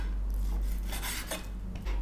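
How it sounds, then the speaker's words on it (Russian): A knife cuts turkey meat into small pieces on a board, giving soft rasping and scraping strokes at close range with no talking. "Мясо нарезаю вот на такие небольшие кусочки."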